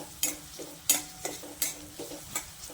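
Onion frying in oil in a pan for spicy shev bhaji: a steady close sizzle broken by four sharp spatula stirs, evenly spaced, with no voices.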